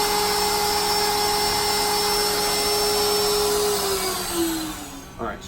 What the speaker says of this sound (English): So then you're going to say your spindle is on, so that means it's spinning.